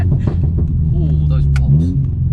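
A Stage 2+ VW Golf R rumbles under acceleration, heard from inside the car, with a few sharp exhaust pops and crackles over the engine drone and voices in the cabin.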